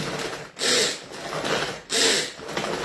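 A hand chopper minces chicken for a chicken, garlic and parmesan meatloaf, making rhythmic, scraping, whooshing strokes that repeat about every second and a half, close and fairly loud, with no talking.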